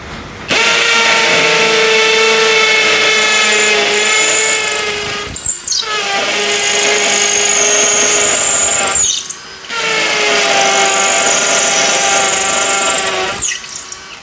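A loud DCA ADJZ03-13EM cordless hammer drill in hammer mode at speed 2 runs in three long bursts with short pauses between, its pitch rising steadily as it works into hard material.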